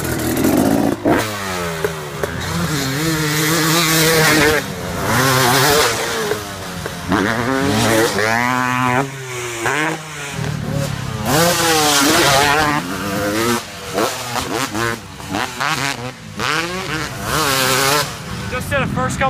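A 2019 Kawasaki KX450F dirt bike revs and accelerates through repeated rising and falling engine sweeps as it is ridden, loud and close, with continuous wind rush and clatter throughout.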